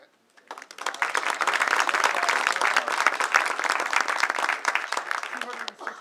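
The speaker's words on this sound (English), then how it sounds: "give a round of applause to the folks in the library who secured this grant" Indoor audience applause for library staff at a community celebration, a dense, steady wash of many hands clapping that swells quickly, holds for several seconds, then tapers off, with faint voices mixed in.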